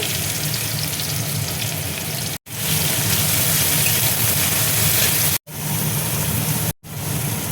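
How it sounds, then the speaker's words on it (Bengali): Chopped ginger, garlic and onion fry in hot oil for paneer chilli dry, making a loud, continuous close-up sizzle that briefly cuts out a few times. "ওই তেলের মধ্যেই দেখো আমি আদা কুচি দেখো দিয়ে দিচ্ছি, রসুন কুচি দেখো দিয়ে দিচ্ছি, পেঁয়াজ কুচি দেখো দিয়ে দিচ্ছি"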